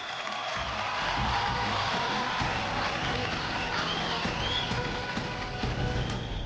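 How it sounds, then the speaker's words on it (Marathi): A studio audience at a Marathi TV dance show bursts into loud, sustained applause and cheering, a dense wash of clapping and crowd noise that holds steady throughout. "त्यासाठी जोरात टाळ्या"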